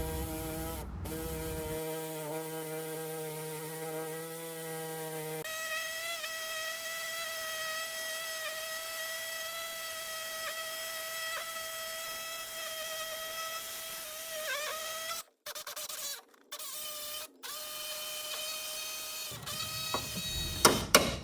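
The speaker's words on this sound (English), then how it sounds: "use my Sawzall and follow the line that I laid down" A Sawzall reciprocating saw cuts sectioning points along a marked line in a Mitsubishi Eclipse car quarter panel, giving a steady, high-pitched metallic buzzing whine that runs continuously with a few brief stops near the end.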